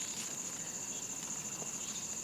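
Insects chirping at night around a campsite in windy, cloudy weather, a steady high continuous trill from crickets holding evenly throughout at low level, with no talk.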